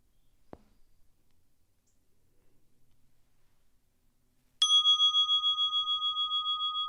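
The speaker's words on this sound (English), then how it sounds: "you'll hear the dinging of a bell" A meditation bell is struck once after a few seconds of near silence and a single soft tap. Its clear ringing tone then sustains and slowly fades, pulsing gently as it decays.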